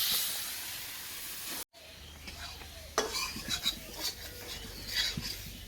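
Chicken meat goes into spiced oil in a village-style pan and is stirred, giving a steady sizzle and hiss with scraping spoon strokes against the pan, close and moderately loud, with no talk.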